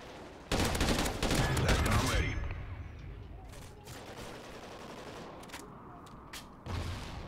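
Heavy bursts of automatic gunfire in the shooter Call of Duty: Ghosts rattle loudly for about two seconds, then thinner scattered shots and game ambience follow, with a short burst returning at the end.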